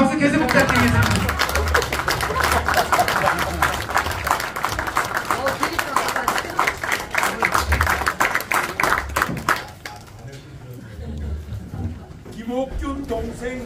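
Applause from the audience at an organization's officers' training session, dense sustained clapping that swells and rolls on for about ten seconds, then drops to a murmur with a few scattered claps and chatter.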